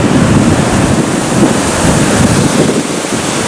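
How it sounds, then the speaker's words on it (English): A constant loud roar of rushing water in Yosemite National Park in April, broad and steady like a raging river amid heavy spray, with wind buffeting the microphone. "Raging river."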